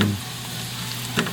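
Carrot and potato pieces fry in a pan, browning for kaldereta, with a soft steady sizzle close by and a brief clatter near the end.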